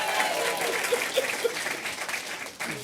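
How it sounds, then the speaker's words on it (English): A studio audience breaks into applause for Paul on a talk show, a steady wash of clapping that holds throughout the short stretch, with a few faint voices underneath. "Round of applause for Paul."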